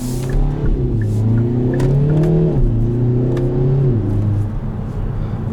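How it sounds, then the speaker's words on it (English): A 2021 Kia Forte GT with an automatic transmission revs loudly and steadily as it accelerates, its engine note rising and dropping through quick gear changes, heard close and with no talking. "It takes the engine a second to rev up,"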